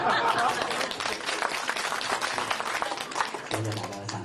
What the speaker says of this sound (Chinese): 谢谢大家的掌声